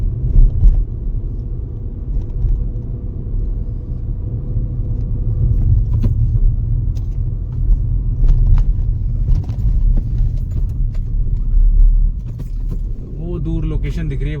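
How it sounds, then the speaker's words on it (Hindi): A car climbs a winding mountain road in the Morni Hills, its engine and tyre rumble steady and close inside the cabin, with faint rattles and someone talking over the drive. "बड़ा मजा आ रहा है इस रोड पे ड्राइव करने का"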